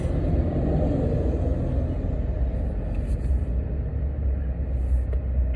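A Porsche 911 rolls forward on a driving course, a steady low engine rumble heard from inside the car, even and moderately loud throughout with no rise in revs, and no talking.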